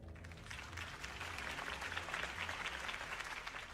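A crowd applauds at a political campaign rally for Harvey Dent in Batman: The Telltale Series, a steady, fairly soft wash of many hands clapping throughout.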